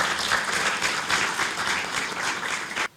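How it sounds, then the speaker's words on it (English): An audience at an African Union meeting gives a dense, steady round of applause that stays loud and even, then cuts off abruptly near the end. "We give our commissioner who has a new mandate for the next 4 years another round of applause."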